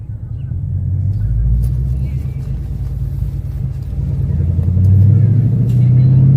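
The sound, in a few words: car driving on a test drive after lowering springs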